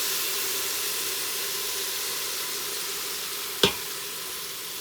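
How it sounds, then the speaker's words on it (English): Chopped onions and red pepper sizzle steadily in hot oil in a quick cooker, a constant bright frying hiss with a single sharp clink of a utensil partway through. "So I'm gonna put in the onions and the red pepper that we chopped in the manual food processor."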